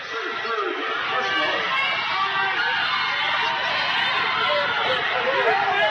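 A basketball crowd at a women's college game between Caulfield and Butler reacts unhappily to a charge call, a steady murmur of grumbling and scattered voices at moderate distance with announcer-style talk over it.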